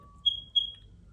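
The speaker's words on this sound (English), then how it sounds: "that was the smoke alarm apparently." Two short, high-pitched electronic beeps from a smoke alarm, evenly spaced and fairly faint, over quiet background.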